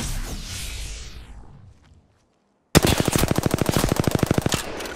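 Video game gunfire in Apex Legends Season 21: a fading whoosh, a brief silence, then a loud, rapid burst of automatic weapon fire with evenly spaced shots.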